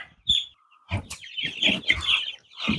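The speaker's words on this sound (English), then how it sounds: "We got chickens." Chickens on a farm on a stormy day, a few sharp clucks and squawks in uneven bursts, fairly close and moderately loud, with quiet gaps between calls.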